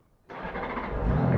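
Honda Goldwing motorcycle starting on a hot day, quiet for a moment before the engine catches abruptly and settles into a close, steady, slightly rising rumble.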